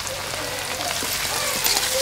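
Chopped garlic sizzling with sautéed onion in a pan, a steady hissing crackle throughout at close range with no pauses.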